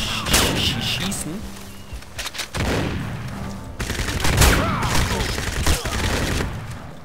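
Shotgun blasts in the video game Crysis: several heavy, booming shots spaced a second or two apart amid battle noise, loud and close, with someone talking over them.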